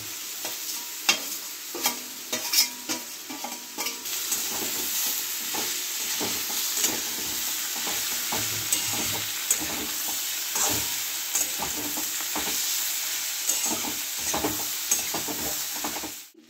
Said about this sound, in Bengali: এবার আমি আলু বরবটিটাকে ভেজে রেখেছি, এগুলো দিয়ে অল্প করে কষে নেব